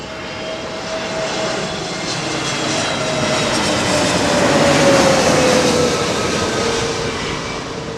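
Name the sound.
aircraft engine at London Heathrow Airport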